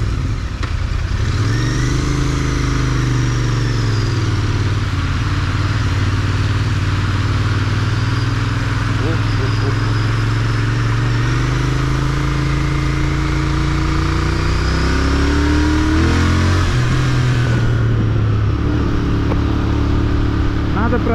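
Royal Enfield Interceptor 650 motorcycle engine idling and rising in revs, a steady close rumble with smooth swells in pitch, running continuously throughout.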